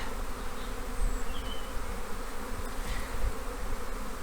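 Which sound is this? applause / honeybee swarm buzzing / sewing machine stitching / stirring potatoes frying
honeybee swarm buzzing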